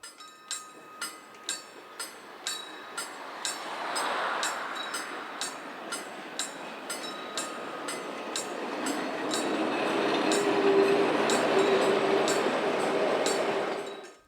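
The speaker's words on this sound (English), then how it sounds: "Here numbers A8 and A9 top and tail this train bound for Genova, with the town seen in the distance." A railway train with railcars A8 and A9 at each end, on the Genova-Casella line, passes with regular clickety-clack wheel beats over rail joints, then a swelling rumble as the cars roll by, heard from the lineside.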